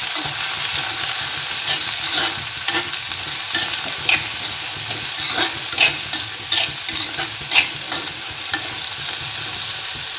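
Small shallots fry in coconut oil inside a small clay pot, a bright continuous sizzle broken by repeated scraping strokes of a spoon stirring them, close and loud with no voices.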